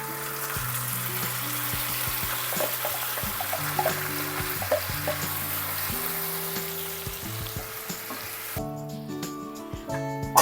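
Ground masala paste fries in hot oil after ginger-garlic paste, giving a steady close sizzle with stirring scrapes, while a sustained low musical tone runs underneath.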